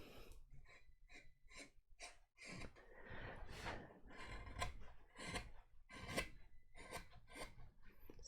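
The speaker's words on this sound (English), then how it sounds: "I'm just using a flatter gouge right now. It's the number 314, just to get rid of some of those gouge marks." Flat wood-carving gouge smoothing a carved wooden rose, a steady series of close, crisp rasping scrapes in a repeated stroking rhythm, heard alone.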